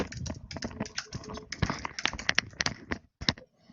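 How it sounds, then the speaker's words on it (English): Rapid clicking of keys on a computer keyboard in the background of an online meeting, irregular bursts of sharp taps continuing for several seconds, fairly faint. "there's a lot of typing going on here in the background"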